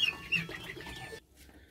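Farm turkeys clucking and chattering in a yard, a busy overlapping burst of close calls that stops abruptly and gives way to quiet.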